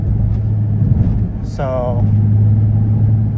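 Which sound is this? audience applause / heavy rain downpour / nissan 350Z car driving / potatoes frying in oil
nissan 350Z car driving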